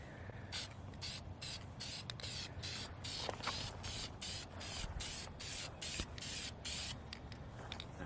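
Spray can laying a red coat of paint onto a cut-out R car badge for a Honda Civic Type R FK8: a rapid series of short, even hissing bursts, close and fairly quiet, with no talking.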